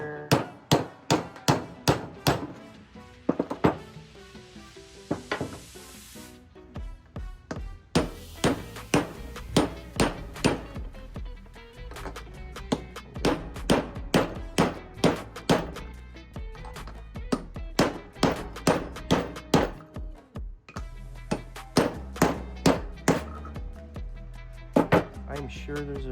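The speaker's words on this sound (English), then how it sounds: "Now we're going to set this bearing on this side. So we're going to use our 15mm socket." Repeated hammer blows drive a bearing into a Dellorto DLRA 45 carburetor throttle body through a 15mm socket, sharp metallic strikes in irregular clusters with brief pauses, close and loud.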